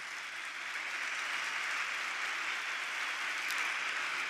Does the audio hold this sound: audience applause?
yes